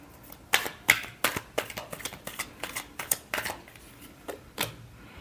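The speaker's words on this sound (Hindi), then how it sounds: "Last shuffle." Tarot cards shuffled by hand at close range, a quick run of about a dozen crisp papery snaps and riffles in an uneven rhythm, with no talking.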